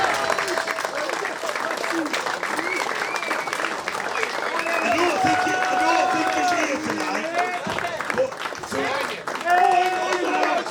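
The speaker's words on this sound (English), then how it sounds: "let's give this lad the round of applause he deserves for what he's got" A room of people at a rugby league club's under-18s awards evening breaks into sustained applause, dense clapping with cheers and chatter mixed in throughout.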